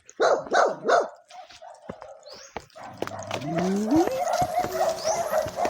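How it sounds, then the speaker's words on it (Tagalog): Several dogs bark in quick bursts, then a wavering howl rises over continued barking and background noise. "Talagang ano na, tahulan-tahulan na yung mga aso dito"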